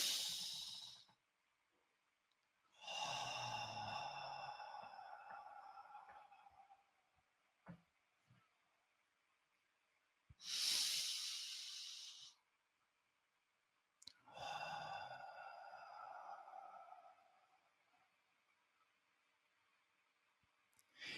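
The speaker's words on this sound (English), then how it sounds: "Now you notice when I breathe in and I go backwards." Slow, deep breaths during a breathing exercise, long airy inhales and exhales of a few seconds each, separated by quiet pauses, close and soft.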